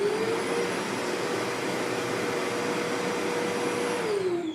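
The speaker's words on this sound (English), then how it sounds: "Let's hear the sound of this vacuum." An Agaro Ace wet and dry vacuum cleaner with 21.5 kPa suction runs with a loud, steady whine and roaring airflow, then its pitch drops as it begins to power down at the end.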